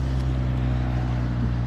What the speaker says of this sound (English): You can hear the cars behind me.